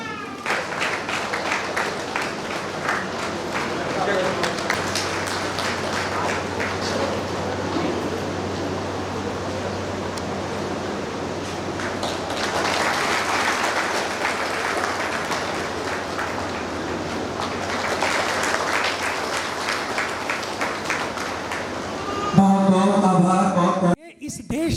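Loud applause welcoming guests at an official public gathering, sustained clapping from a large crowd that swells in waves, with a low hum underneath and a brief clatter near the end.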